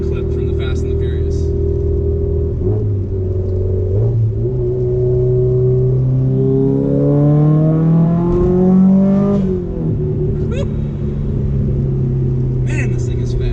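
A Subaru STI's 2.5-liter four-cylinder engine revving hard on a dyno, the tone climbing steadily through the gears to a loud peak before dropping back to idle, with a voice talking over it.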